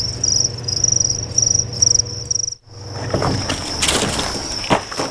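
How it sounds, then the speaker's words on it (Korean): Crickets raised as animal feed in a heated, humidity-controlled breeding farm chirp in a loud, steady trill that pauses midway, followed by rustling and scraping noises. "그가 키우는 것은 바로 귀뚜라미."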